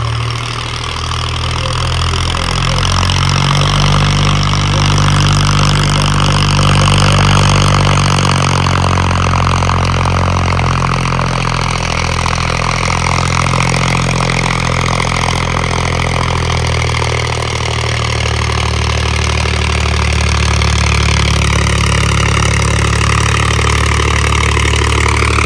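A John Deere 5038 D turbo tractor engine runs loud and steady nearby, its deep rumble surging and revving continuously throughout.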